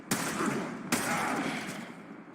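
Two rifle shots from the Vectis Prime in the video game Warframe, each a sharp crack followed by a long rumbling echo, fairly quiet and about a second apart.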